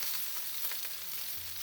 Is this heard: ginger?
yes